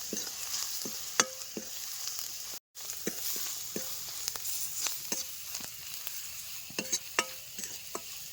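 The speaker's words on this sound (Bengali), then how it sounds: "এবার একসাথে আরেকটুখানি নাড়াচাড়া করে ভাজা ভাজা করে নেব যেন হলুদের কাঁচা গন্ধ না থাকে" A spoon stirs spices and turmeric frying in a pan for lentil dal, with repeated clinks and scrapes over a soft, constant sizzle and a brief dropout midway; no voices.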